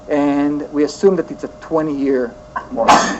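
A single short, sharp sneeze bursts out near the end of a lecturer's talk about mortgage rates, brief and fairly loud right after his speech.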